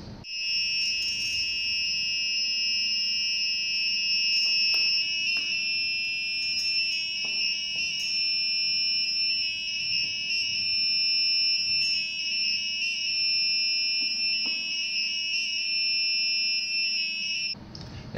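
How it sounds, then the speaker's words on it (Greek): A robotic musical traffic light built at a school plays a steady, piercing two-tone electronic buzz, loud and unbroken for about seventeen seconds before it cuts off, with no voices. "Το φως αλλάζει σε πράσινο, παίζει ένα χαρούμενο ήχο και δίνει χρόνο για ασφαλή διάβαση."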